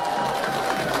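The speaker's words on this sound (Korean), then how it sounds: "우리 사성 장군 김병주 의원님을 힘찬 박수로 모시겠습니다" A crowd at a presidential campaign rally in Chuncheon cheers in a brief, dense wash of noise. The sound is steady and moderately loud, with no distinct claps standing out.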